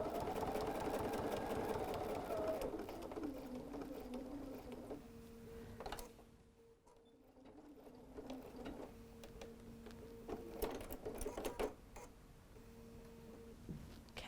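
A sewing machine quilts a folded star squared hot pad, its needle running in a steady rapid rhythm in bursts, pausing briefly midway before stitching resumes, close and fairly quiet with no talking.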